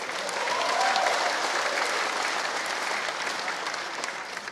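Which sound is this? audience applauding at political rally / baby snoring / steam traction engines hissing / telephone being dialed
audience applauding at political rally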